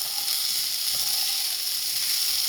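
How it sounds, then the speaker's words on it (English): Onions and potatoes sizzle steadily in a hot pan, a continuous bright crackling hiss with faint scraping, close and alone. "Listen to that sizzle."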